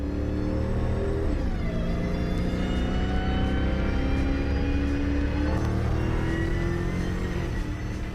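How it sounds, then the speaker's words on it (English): Hellcat supercharger fitted to an LS-swapped Chevrolet C10 engine, heard up close as a deep, steady engine rumble layered with whining tones that sweep up and down in pitch, loud and continuous without any talking. "Anybody that's ever drove a Hellcat car absolutely loves the Supercharger sound."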